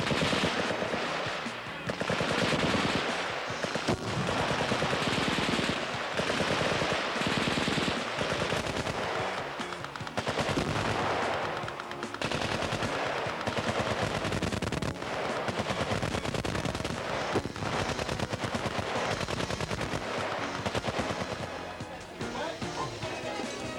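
Suppressive gunfire during Army combat field training at Fort Jackson in 1993: dense, sustained bursts of automatic and rifle fire crack almost without pause, loud and echoing across an open range, with a narrator's voice running beneath.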